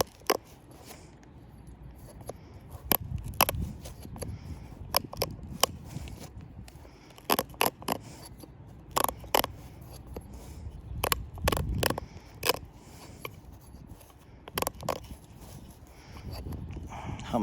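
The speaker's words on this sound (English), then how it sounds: "I'll do a few more little punch flakes." Sharp, irregular clicks and taps of a punch flaking a stone Scottsbluff point, scattered strikes over a steady low background hiss, close and fairly crisp, no talking.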